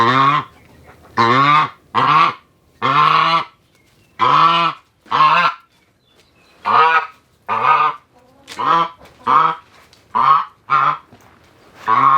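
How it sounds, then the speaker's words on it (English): A nesting goose on a homestead gives a series of loud, close honks in regular bursts, about fourteen calls with short pauses between them, no talking. "you can see how the goose is, she's kind of making her nest here"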